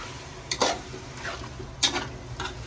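Spices such as cumin and fennel powder being stirred and fried in a pan for chicken pulao, with a few soft scraping stirs and a light sizzle, close and fairly quiet, with no talking.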